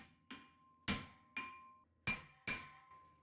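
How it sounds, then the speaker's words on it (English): Five loud metallic sledgehammer strikes on the rim of a Subaru Crosstrek front brake rotor at an uneven, deliberate pace, each ringing briefly before the next blow. "I like using a little sledgehammer. And we're just going to hit on the rim."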